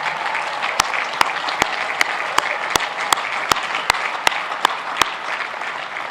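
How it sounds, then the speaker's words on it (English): A graduation ceremony audience at the University of Virginia applauds first-generation students and their supporters. A steady wash of crowd clapping is punctuated by sharp, regularly spaced individual claps that stand out clearly. "Can everyone please give a round of applause to our first-generation students and those in the audience who have helped them."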